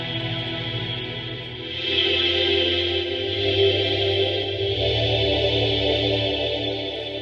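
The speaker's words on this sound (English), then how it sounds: "Nice vintage string sound there." Warm vintage string ensemble tone from a Virtual Arp Quadra synth, a sustained chorused chord that swells slightly after the first couple of seconds and holds steady and loud to the end, with no voices.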